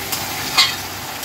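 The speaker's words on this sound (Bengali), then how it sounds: "পেঁয়াজের পরে এই যে আদা রসুন ভালো করে পেস্টটাকে দিয়ে কষতে হবে।" Ginger garlic paste frying in a pan over onions for a Bengali chicken masala, a short burst of sizzling with a brief stirring scrape near the middle.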